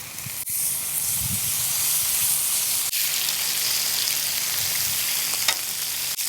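Strips of bacon sizzle and crackle steadily in a hot pan, a dense continuous frying hiss lasting throughout with a couple of brief knocks, close and fairly loud.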